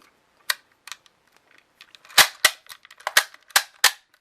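Lacquered steel case rounds snapping into an AK magazine through a UTG speed loader: a run of sharp metallic clicks, scattered at first, then loud, closely spaced clacks toward the end, close up with no talking.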